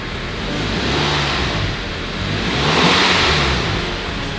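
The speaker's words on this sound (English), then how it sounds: "this engine sounds sweet, doesn't it?" A Volkswagen Golf GTI with an engine problem revs in a workshop, rising and falling in two broad swells over a continuous mid-pitched drone, loud and close, with no voices.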